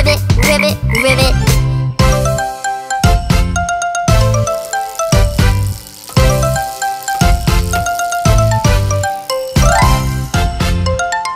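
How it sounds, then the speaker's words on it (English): Cartoonish frog croaks ring out over a bouncy, jingling children's song, repeating in quick rhythmic bursts while the music plays loud and continuous throughout. "I see a frog. Ribbit, ribbit, ribbit."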